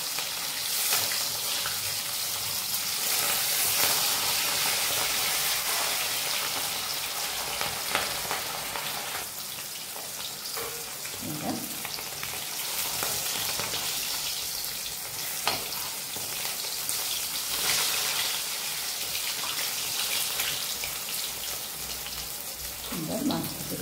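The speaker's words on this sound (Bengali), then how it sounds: "বাকি মাছ দুটো আমি এইভাবে ভেজে নেব" Katla fish frying in mustard oil, a steady, loud broadband sizzle with crackling that holds for the whole stretch, broken now and then by a spatula scraping or stirring, with faint background voice.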